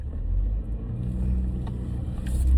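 Vehicle with a trailer backing up, heard as a low steady engine rumble from inside the cab that swells slightly toward the end, with faint clicks above it and no talk.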